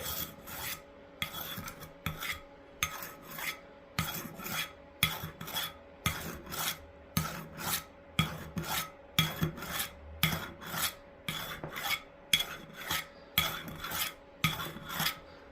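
Steady series of rasping metal strokes, about fifteen evenly spaced sawing scrapes of a knife blade drawn across a knife sharpener, close and clear with no talking.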